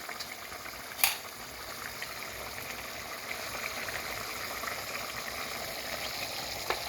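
A pot of stew with meat, thyme, curry powder, ginger and stock cubes bubbles and simmers steadily, a soft continuous seething with one sharp click near the start.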